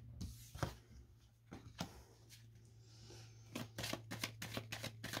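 Tarot cards are shuffled and drawn by hand, giving quick riffling bursts and soft slaps of cards against a table, close and fairly quiet, with brief pauses between them.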